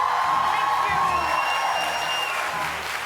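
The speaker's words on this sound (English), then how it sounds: "I'm so honored that you're clapping" A studio audience claps steadily on a daytime talk show, dense applause close and loud throughout, with a few whoops and crowd murmur mixed in, fading slightly at the end.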